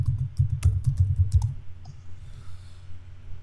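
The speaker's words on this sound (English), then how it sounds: "here I'm going to just type gradient" Typing on a computer keyboard while entering a search into PowerPoint: a quick burst of close, crisp key clicks for about a second and a half, then a pause with a faint tap and soft room noise.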